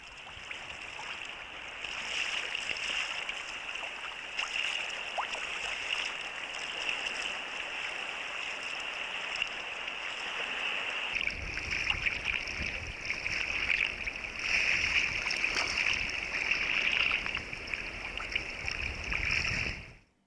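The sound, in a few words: sea kayak paddling along shore near Hunter Island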